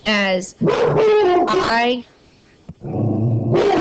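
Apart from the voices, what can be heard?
dog barking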